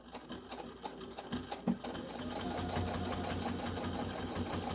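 A sewing machine back-stitches over a fabric tab on a snap pouch, giving a steady, close mechanical whir of rapid needle strokes that begins after a few short starts and then runs continuously.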